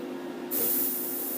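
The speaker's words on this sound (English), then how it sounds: "Go ahead and spray my hand." A spray bottle misting water onto a hand, producing a sudden steady hiss that starts about a third of the way in and holds to the end, close and clear over a low background hum.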